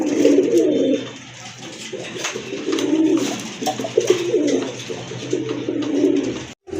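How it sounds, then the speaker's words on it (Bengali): Gorra pigeons offered for sale coo nearby in repeated low, throaty phrases, several rounds in a row with short gaps between them. "আরেকটা কবুতর গড়া মাদি কবুতর"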